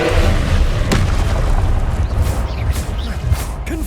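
A Confringo spell explosion in the video game Hogwarts Legacy: a loud, deep booming blast with a rumbling, crackling tail filling the few seconds.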